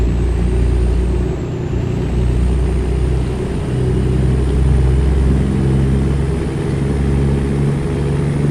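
A heavy truck in American Truck Simulator uses its Jake brake engine braking, heard as a loud, steady low-pitched diesel rumble with a droning pulse that holds for several seconds without a break.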